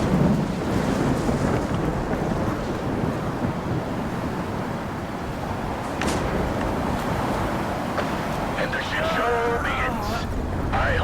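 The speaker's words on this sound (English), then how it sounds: "a storm started in my game" Thunderstorm in the video game STALKER 2: a constant roar of rain and wind with low rumbling throughout, plus a sharp crack partway through, dense and fairly loud.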